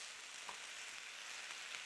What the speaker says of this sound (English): we're just going to stir this and keep cooking until the onions become translucent